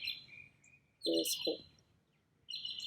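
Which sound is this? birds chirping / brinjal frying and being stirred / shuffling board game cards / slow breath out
birds chirping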